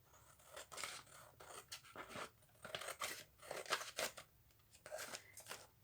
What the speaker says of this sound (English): I don't really want that darker piece there, so I'm going to cut that bit off